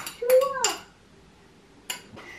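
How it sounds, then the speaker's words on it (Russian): Utensil clinking against a bowl while stirring syrniki batter in a home kitchen, a quick burst of bright scrapes and taps, a pause, then a couple more close clinks, with a faint tonal sweep. "Еще перемешиваем."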